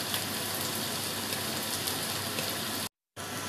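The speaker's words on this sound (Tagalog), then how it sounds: "Yan po, ginigisa ng upo." Bottle gourd (upo) sautéing in a pan, a steady close hiss and sizzle with a brief drop to silence near the end.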